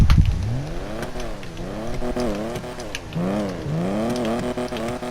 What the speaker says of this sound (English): I like how you can hear not only the exhaust, but you can actually hear the engine as well.